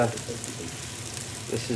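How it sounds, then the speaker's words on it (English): Onions frying in a Remoska electric cooker with a soft, steady sizzle under a quiet voice, close by and fairly faint. "look at the onions frying in that Remoska"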